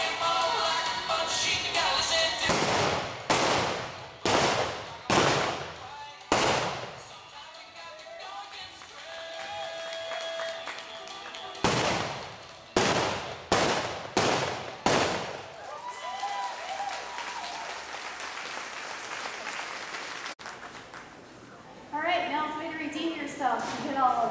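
Gunshots from mounted shooting at cone targets on horseback ring out as rapid clusters of sharp, loud cracks in two quick volleys, with a person talking in between.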